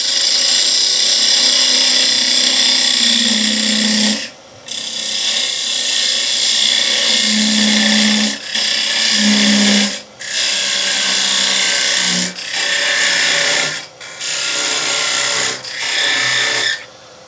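A woodturning lathe spins an open vase as a turning tool cuts the wood, giving a loud, steady whirring scrape that stops briefly several times between passes, with no talking.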